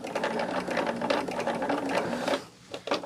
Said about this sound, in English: I need to keep my finger on that edge so I don't over sew it.